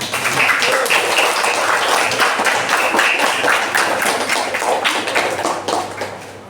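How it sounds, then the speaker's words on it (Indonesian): A hall audience at an Islamic etiquette training session claps together in a dense, steady round of applause that holds for several seconds and then starts to fade. "silakan dulu tepuk tangan semuanya"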